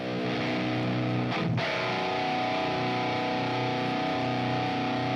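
Heavily distorted electric guitar runs through a Marshall amp simulator in old-school high-gain style, a loud sustained chord ringing continuously with a brief pick scrape or muted hit partway through, played alone without talking.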